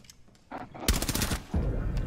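Shotgun blasts in Rainbow Six Siege, two or three loud close shots in quick succession.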